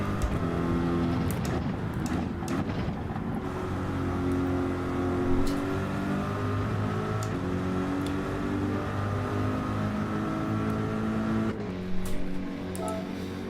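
GT3 race car in the Gran Turismo video game driving into the pits at St Croix, a steady engine drone holding at a fairly even pitch, with brief clicks near the end.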